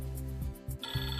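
A mobile phone rings with an incoming call from a machine operator, a steady electronic ringtone with a bright high tone starting partway through, close by and alone.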